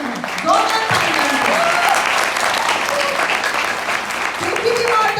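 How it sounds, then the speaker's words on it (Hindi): Sustained, loud audience applause at an Indian theatre festival, with dense clapping that holds steady for several seconds amid a few faint voices. "जोरदार तालियां"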